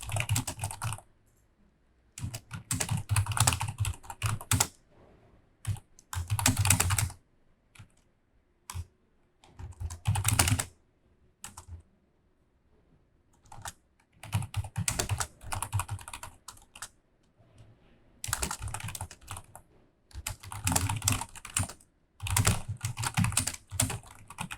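Rapid clacking on a computer keyboard as a prompt is typed to ChatGPT, coming in close, dense bursts separated by short pauses over a long stretch, with no talking.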